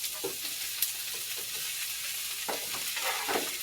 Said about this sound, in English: Next you're going to add the onion.